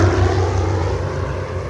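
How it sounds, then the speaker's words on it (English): A huge airplane takes off in a drama sound effect, its massive engines giving a steady, loud, low roar that stays close and constant throughout, with no voices. "the huge airplane suddenly lifted off from within their very midst and flew off into the morning sunrise"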